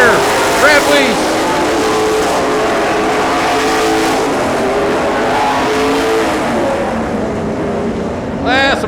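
Race cars roaring close past on a dirt track at the checkered flag, a loud sustained engine drone with revving rising and falling, under a voice talking over a loudspeaker.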